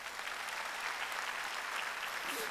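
Church congregation applauding during a Sunday worship service, a steady, dense wash of many hands clapping together at a moderate distance, sustained without breaks.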